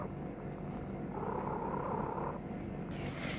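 A cat purrs steadily and close by, a soft continuous rumbling drone with no other sounds over it.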